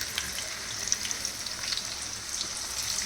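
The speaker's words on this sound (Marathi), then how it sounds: "त्यामध्ये आता मी बटाटे टाकते." Potatoes deep frying in about a bowlful of hot oil, a soft, steady crackle and hiss with scattered tiny pops, fairly quiet and continuous, no voices.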